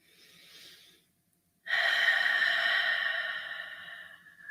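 Slow, deep meditative breathing during an evening prayer: a soft exhale, a short pause, then one long, steady, breathy inhale or exhale held for several seconds, close and alone.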